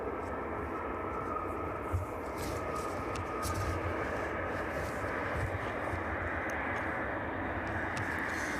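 Boeing 767 at East Midlands Airport, arriving from Philadelphia in the evening, gives a steady broadband jet-engine roar at moderate distance, continuous and even with no talking.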